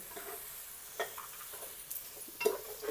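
Blended tomato paste sizzles softly in a frying pan, with a few short scraping stirs; quiet and close, with no voices.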